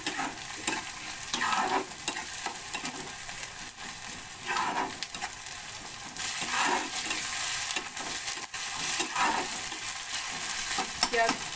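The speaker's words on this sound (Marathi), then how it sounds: "कांदा चांगला लाल होसपर्यंत परतून घ्यायचा आहे" Onion sautéing in a pan for kaleji masala gives a continuous close sizzle, with a spatula scraping and stirring at regular intervals and no voices.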